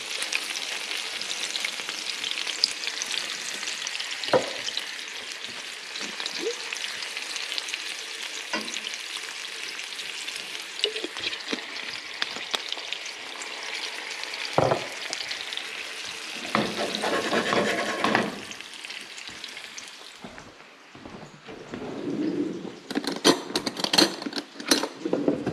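Garlic and rainbow trout fry in a pan with a steady, broad sizzle, occasional scraping and stirring knocks, and a brief drop in the hiss near the end before it swells again.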